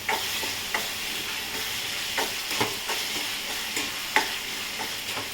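Prawns go into a village-style curry simmering in oil, sizzling and frying steadily while a spoon stirs with repeated scraping clinks, close up and without talk.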